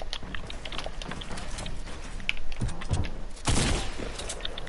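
Video game gunfire during a duo squad match, a dense burst of shots with a loud cluster near the end, mixed with clatter and game noise and no one talking.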